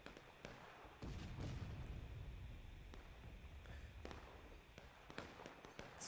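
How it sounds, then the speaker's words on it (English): Union artillery and massed rifle fire in the Civil War game War of Rights: sharp, scattered distant cracks and booms, with one heavier rolling blast early on, going off irregularly without a pause. "Union artillery is just shooting guns. Everyone's shooting guns."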